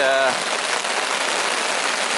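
Heavy rain pouring down on a campsite tent in Algonquin Park during a canoe trip, a dense, steady hiss of drops close by, with a brief voice at the very start.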